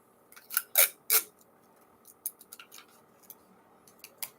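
Tape is pulled and torn off in two loud, close ripping bursts, followed by scattered small ticks and crinkles as it is handled, with no voices.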